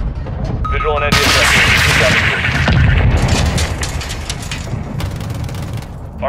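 An AC-130 gunship fires on enemy troops in Call of Duty Modern Warfare II, with heavy booming cannon shots and rumbling impacts under constant aircraft drone while radio voices talk.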